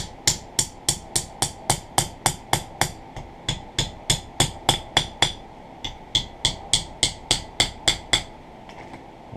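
A hammer taps the pins of a knife handle down on a small anvil, a close, sharp metallic strike repeated at a steady brisk rhythm about twenty-five times, with a brief pause partway through and no talk.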